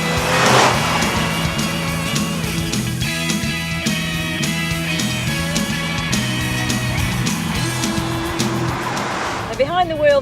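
A Volkswagen Golf GTI Mark II being driven, its engine droning steadily with gear-related pitch shifts under continuous narration.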